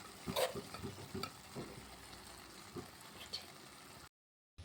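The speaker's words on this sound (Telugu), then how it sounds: "ఇదంతా మొత్తం మనం వేసుకున్న టమాటో, ఉల్లిపాయ ఇవన్నీ కలిసేలాగైతే మొత్తం కలుపుకోవాలి" Cooked rice is stirred into fried tomato and onion in a pan, giving a faint soft sizzle with scraping clinks of a spoon against the metal, close and intermittent, ending in a brief silence.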